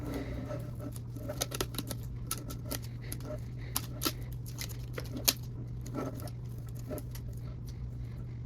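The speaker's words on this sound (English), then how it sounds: "Now just keep unwrapping this tape." Old tape is unwrapped from a baseball bat grip, with close, irregular crackles, ticks and small peeling snaps scattered over a faint steady low hum.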